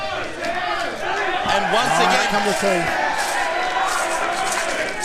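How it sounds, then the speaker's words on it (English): A wrestling crowd at a live WSW show in Brisbane chants and roars throughout, a dense, loud mass of voices with rhythmic shouted bursts, while a commentator talks over it. "And the crowd chanting for the teeth here."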